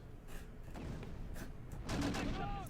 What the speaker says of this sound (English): But they're still firing plenty of mortars our way.